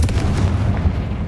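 Cast in Hogwarts Legacy, the Confringo spell explodes in a loud, close, low boom with a rumbling, gunfire-like crack that quickly fades.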